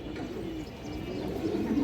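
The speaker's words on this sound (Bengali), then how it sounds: "ফুল ফ্রেশ কালদম একটা মাদি" A female Kaldom pigeon gives a low, steady cooing, murmuring continuously for a couple of seconds amid a close, somewhat noisy background.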